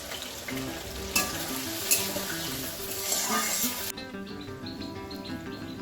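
Spice paste sizzles loudly in hot oil over potatoes fried with cumin, with cauliflower in the pan, a steady close frying hiss with faint bird chirps behind, dropping abruptly to a quieter sizzle near the end.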